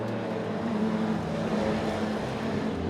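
Race cars, a BMW among them, circling a circuit at Ring Djursland, heard as a steady, moderately distant engine drone with a slight rise as they pass, under no audible talk.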